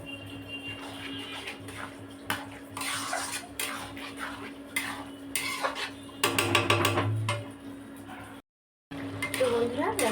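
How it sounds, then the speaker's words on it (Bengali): Spices — salt, turmeric, coriander and chilli powder — stirred and scraped in a pan with a metal spoon, clattering and scraping steadily throughout, louder bursts of vigorous stirring midway, with a faint voice in the background. "এবার সুন্দরভাবে কষাতে হবে।"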